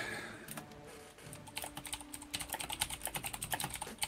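Rapid clicking of fingers typing on a computer keyboard, close and fairly loud, the keystrokes quickening into a dense rhythm.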